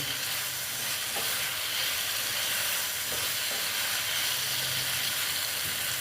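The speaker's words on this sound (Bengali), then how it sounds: "দিয়ে একটু আবার নেড়ে চেড়ে নিচ্ছি।" Steady broadband sizzle of okra frying in a pan with Kashmiri red chili powder, with faint scraping of a spatula stirring now and then; continuous and close, no voices.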